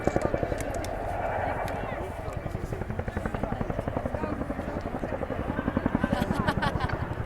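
A Boeing Chinook twin-rotor helicopter flies at the RAF Cosford Airshow, its rapid rotor thudding steady and loud throughout, swelling slightly toward the end, while a commentator talks over it.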